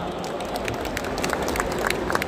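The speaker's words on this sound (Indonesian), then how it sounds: "Tepuk tangan buat kita semua." Applause from the audience at an opening ceremony: steady dense clapping at a moderate distance with crowd murmur underneath, fairly low in level.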